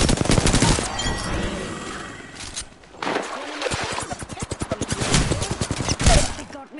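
Rapid volleys of video game gunfire crackle in repeated bursts, loud and close, with a short lull in between, while a voice talks over parts of it.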